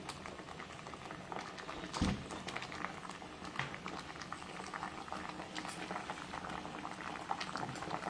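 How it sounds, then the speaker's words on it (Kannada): Water boils in a cooking pot with cabbage in it, a steady, continuous bubbling and seething that stays close and even throughout. "ನೀರು ಕುದೀತಾ ಇದೆ, ಅದು ಚೆನ್ನಾಗಿ ಬೇಯಬೇಕು."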